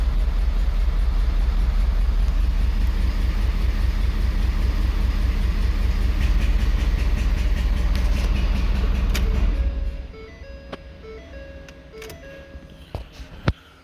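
A Ford Super Duty 6.7L Powerstroke diesel with a misfire, one injector disabled, idles with a steady, rapid rhythmic knock for about nine seconds, then shuts off, leaving faint clicks and ticks.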